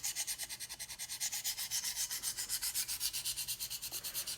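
A knife edge is swiped back and forth on a KME sharpening stone in steady, quick, even strokes, a close, soft scraping rhythm with no talk.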